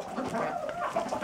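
Laying hens clucking in a barn during winter feeding, a close, soft run of several quick clucks with no talking.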